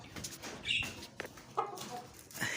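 Sussex hens clucking close by while being fed grain on a farm, a series of short irregular clucks and squawks over a busy background with other birds audible.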